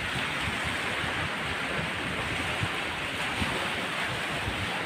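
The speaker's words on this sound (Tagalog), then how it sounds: "Hangin kaayo dayon. Balud kaayo siya." Strong wind roars across the microphone over continuous crashing sea waves, a dense, loud, unbroken rush.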